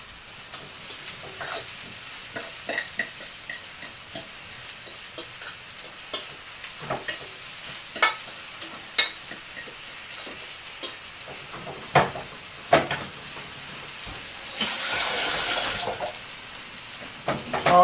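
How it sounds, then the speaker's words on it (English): Coarsely mashed potatoes frying in bubbling oil with onion, chilli and garlic in a pan, crackling sizzle with repeated stirring scrapes and clicks, close, with a louder hiss near the end, no talk. "I'm going to carefully put the coarsely mashed potatoes into the pan"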